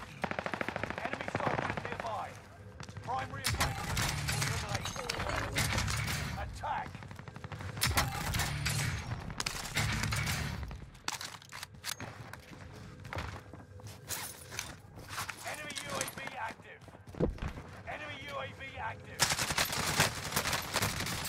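Sustained automatic gunfire in a shooter video game, long rattling bursts with pauses and scattered single shots, loud and close, with a voice talking at times over the shooting.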